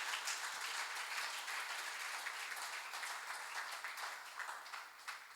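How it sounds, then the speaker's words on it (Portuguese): A congregation applauds during a church talk on healing wounds of the soul. The dense, even clapping sounds distant and quiet, holds steady for several seconds, then thins slightly toward the end. "Eu acho que é digno de aplauso, né?"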